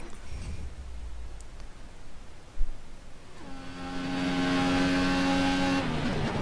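Formula 1 car engine in F1 2014 on a flying lap: low rumble and a thump, then the revs climb into a loud sustained high-pitched whine that holds steady to the end.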